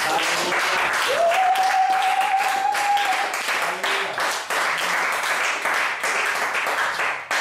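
A church congregation applauds and cheers loudly during a French-language prophetic teaching event, a sustained dense clapping wash with a raised voice calling out over it, steady throughout.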